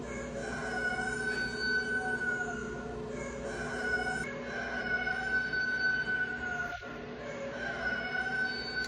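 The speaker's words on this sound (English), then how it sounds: "That's the rooster going off" Rooster crowing at a moderate distance, repeated drawn-out calls over a steady background hum, with no one talking.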